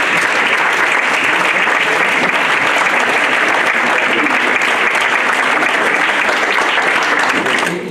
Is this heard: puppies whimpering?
no